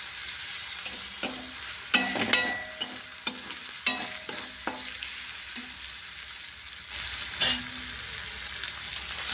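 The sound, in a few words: banana flower poured into pan and frying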